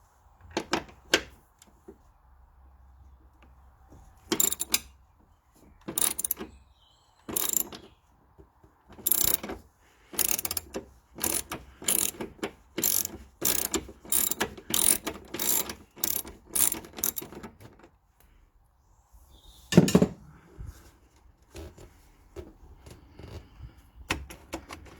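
Ratchet clicking in bursts while loosening a small 8mm bolt at the back of a Ford Mondeo engine bay, close and crisp, with repeated quick strokes separated by short pauses and no talking.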